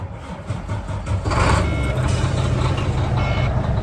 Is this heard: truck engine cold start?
yes